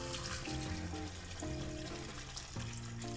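Shrimp soaked in ice-cold salt water get rinsed under running water, a steady close splashing and gurgling wash with shifting tones, no talk.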